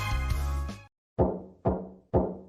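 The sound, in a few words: knock on a bedroom door in the London Detective Mysteria video game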